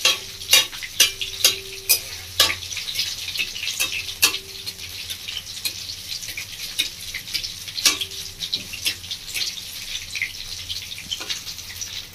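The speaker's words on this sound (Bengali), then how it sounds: "এভাবে একটু নাড়াচাড়া করে নেব, একটু সম্পূর্ণ ভালোভাবে ভাজা হয়।" Sizzling oil fills the background as mushroom pakoras fry, while a utensil repeatedly clinks and scrapes against the pan, sharp knocks coming in irregular bursts, close up.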